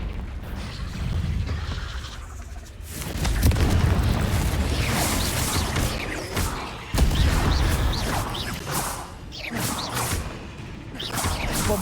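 Repeated booming fire-spell blasts of Confringo in Hogwarts Legacy, heavy bursts with crackling debris and mechanical clatter, layered over busy combat noise and a voice calling out.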